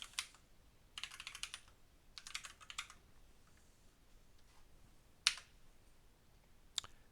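Quick bursts of typing on a computer keyboard while entering a command in a terminal, a few short clusters of clicky keystrokes followed by two sharp single key taps, quiet and close.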